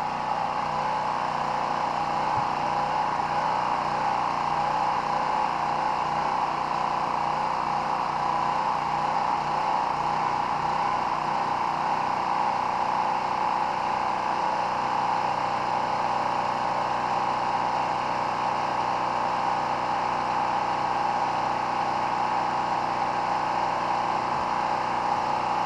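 A small gasoline engine runs with its choke pushed halfway, burning off the fuel left in the carburetor bowl; a steady, continuous mid-pitched drone holds throughout at constant loudness, with no talk.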